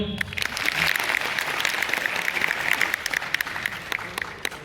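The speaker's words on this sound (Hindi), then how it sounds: "एक बार अपने ताली बजा दो" A crowd at a Jammu University poetry gathering claps for several seconds, a dense, lively patter with sharper individual claps standing out near the end.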